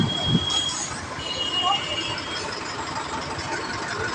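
A train passes a railway level crossing, its wheels letting out a thin, sustained squeal over rumbling rail noise and general street commotion, with faint voices in the background.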